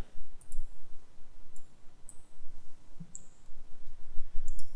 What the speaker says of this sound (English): you click on download, save, right click on it, open containing folder